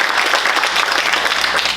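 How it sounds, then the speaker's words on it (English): Audience applause at a panel discussion on American journalism, a steady, dense clapping from a room full of people that holds loud and even throughout. "he deserves a round of applause today"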